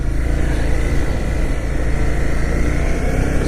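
Motorcycle engine held at a steady, fairly loud drone while riding through gear shifts, a continuous low rumble with a sustained tone and no talking over it.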